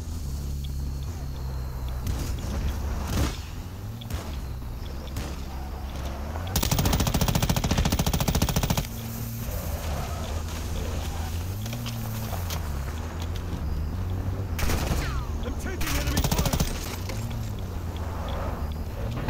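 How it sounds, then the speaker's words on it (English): Enemy gunfire in Call of Duty Warzone 2.0 DMZ mode: sustained automatic bursts crackling over a low engine drone, with a louder, denser volley midway and scattered shots continuing to the end. "Taking enemy fire!"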